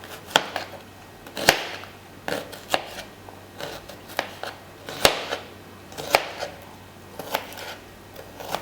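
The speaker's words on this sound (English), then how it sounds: "So I'm gonna cut my onion into tiny pieces." A knife chops an onion into tiny pieces in a bowl, giving a string of sharp, irregular clicks and thuds, some louder than others, at close range with no talk.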